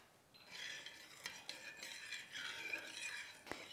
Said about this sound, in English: you may notice that I'm just doing a figure eight in my stirring